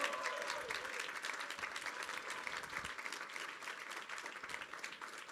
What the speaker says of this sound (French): On peut les applaudir. Merci à eux.